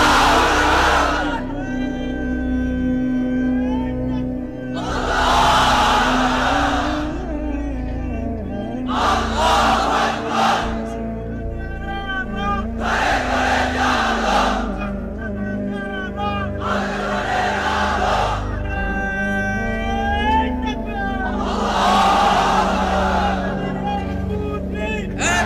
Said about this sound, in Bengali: এবার অবিবাহিতরা দাও লিল্লাহি তাকবীর।